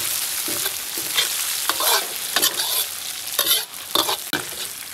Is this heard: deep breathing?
no